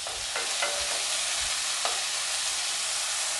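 Chopped onion and finely cut green chilli sauté in hot oil after mustard seeds have spluttered. A steady bright sizzle runs throughout, close and even, with a few soft stirring scrapes and no talking.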